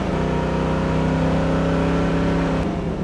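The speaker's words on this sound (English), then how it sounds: "Car has great acceleration." A 1969 Chevrolet Camaro accelerates with a loud, steady, close engine roar that holds without a break for about three seconds.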